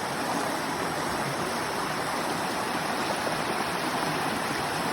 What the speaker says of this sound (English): I'm here at the base of Cedar Falls, watching this water flow recklessly over these rocks.